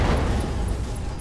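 Heavy cannon fire and a rumbling explosion from a mech battle in the video game Roguetech, a dense, loud low boom sustained across the moment with no talk over it.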